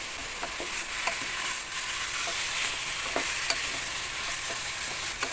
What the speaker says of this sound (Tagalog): gisa-gisa lang natin yan hanggang mag-brown ang chicken